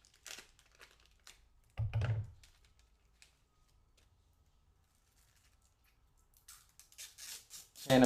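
Plastic film is peeled off the colored rear shell of an iPhone 5C, with sharp crinkling and tearing bursts near the start and end around quiet gaps, close and fairly soft.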